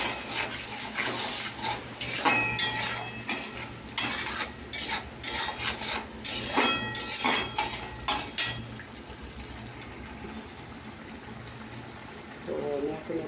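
Ground cumin and chili powder being sautéed and stirred in a pan, with a metal utensil scraping and clinking rhythmically against it, then a quieter stretch of low sizzling. A person talks over the cooking.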